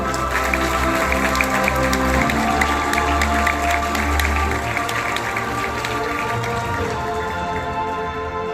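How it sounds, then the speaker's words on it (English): Audience applause at a school investiture ceremony, a dense, steady wash of clapping filling the hall at high volume throughout, with no voices over it. "Thank you for the warm applause."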